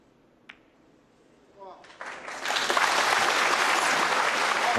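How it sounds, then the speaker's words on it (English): A snooker crowd breaks into applause after a shot in a World Open semi-final, starting with a few scattered claps and swelling quickly into sustained, dense clapping from the whole arena. "Every shot being applauded here."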